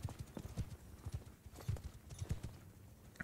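Horse hooves clip-clopping in the medieval combat game Mount & Blade II: Bannerlord, a brisk uneven run of close thudding steps from several mounts throughout, with no talk.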